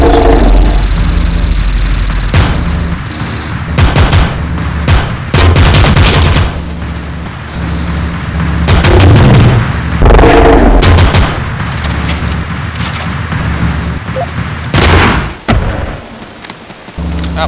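Ranged weapons firing in the top-down shooter Teleglitch, loud bursts of gunshots and rapid volleys in clusters with brief lulls between, harsh and close, no voices over them.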